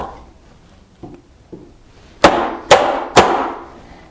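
A mortise being chopped by hand with a chisel in wood, for a side table: a few soft taps followed by three loud, sharp mallet strikes about half a second apart, close and alone.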